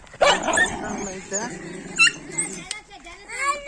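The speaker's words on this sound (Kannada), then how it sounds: "ನಮ್ಮ ನಾಯಿ ಎಲ್ಲ ಬಗ್ಳತದವೆ" Several dogs bark and yip in short, sharp bursts close by, with a voice talking alongside them near goat kids.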